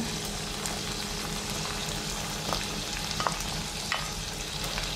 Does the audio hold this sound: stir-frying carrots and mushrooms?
yes